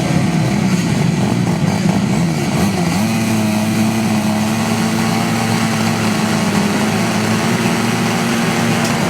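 Motorcycles racing at a 2009 grasstrack meeting give off a loud, continuous high-pitched engine drone with revs rising and falling, steady throughout and with no talk over it.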